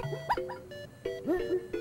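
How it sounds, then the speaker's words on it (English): Cartoonish synthesized dog barks from the Mario Paint video game, a few short pitched yips and bow-wows in quick succession, fairly loud and alone with no talking. "The last bark of this dog is ridiculous."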